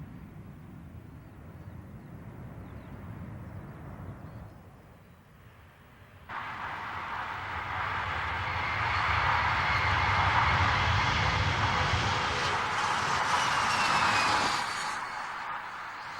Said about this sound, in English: the test pilot deliberately takes off at too steep an angle, putting the tail of the jumbo in contact with the runway